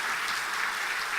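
A congregation applauds during a Sunday worship service at a Full Gospel church, producing dense, steady clapping that fills the room throughout.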